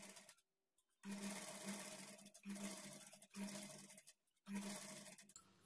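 A sewing machine stitches blouse fabric in four short bursts of buzzing whir separated by brief silent pauses, close and quiet.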